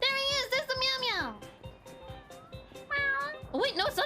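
Repeated cat meows ring out in a video game, high rising-and-falling calls in two bursts, while a young voice talks excitedly and mimics the meowing.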